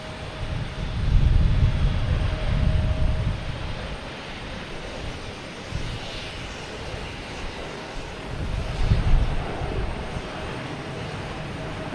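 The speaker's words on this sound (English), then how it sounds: "And taking off is Delta, E175, heading to Pittsburgh." Delta Embraer E175 jet taking off at Boston Logan Airport, a loud low rumbling roar that swells, eases, then builds again, with a steady whining tone over it.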